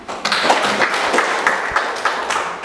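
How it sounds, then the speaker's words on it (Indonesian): A group of school students claps together in a classroom, a dense, continuous patter of hand claps with a few sharper accents. "Mari kita tepuk tangan"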